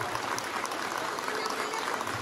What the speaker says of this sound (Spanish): démosle un fuerte aplauso a nuestro presidente municipal